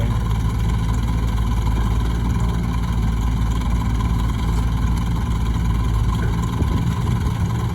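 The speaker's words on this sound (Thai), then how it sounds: "แต่ใส่เป็นเครื่องยนต์นั่นแหละแต่ก็ไม่แน่ใจว่าเป็นเครื่องของอะไร" A tuk-tuk's loud motor engine runs steadily throughout, a constant rumbling drone with no pauses.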